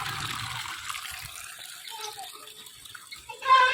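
Water runs from a tap, a soft splashing flow that swells louder near the end.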